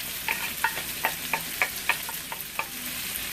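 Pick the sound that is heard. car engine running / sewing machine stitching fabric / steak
steak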